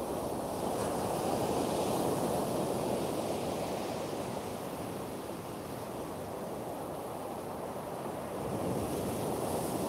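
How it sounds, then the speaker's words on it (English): Ocean surf rolls in a continuous roar on Coney Island beach during a wind storm, with wind buffeting the microphone throughout; broad, steady noise that swells slightly in the middle and end. "Wow, these waves, man."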